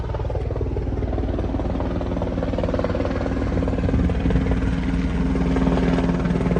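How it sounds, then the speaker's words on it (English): A helicopter passes over a new-construction house site in St. Pete, its steady rotor thump and engine drone filling the air and swelling slightly louder toward the end, with no talking. "Every time you do a video, a helicopter flies by, right?"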